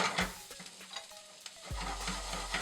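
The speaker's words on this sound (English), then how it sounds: "once the onions start caramelizing, they release a lot of natural sugars themselves" Sliced onions sizzle loudly in a hot pan for a steak sandwich, with scraping stirs of a utensil early on, then a steady close frying hiss that swells after a short pause, with no talking.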